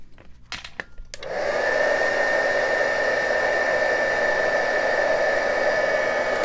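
A heat tool melts embossing powder while making boho dangle earrings with gold backs. A second of faint handling clicks gives way to a loud, steady, hair-dryer-like blowing whoosh that runs unbroken to the end.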